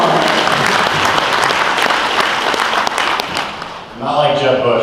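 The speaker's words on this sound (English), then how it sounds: "Can we give them applause for no more shutdowns, please?" A membership luncheon crowd applauds in a dense, loud wash of clapping that dips and fades near the end as a voice begins speaking.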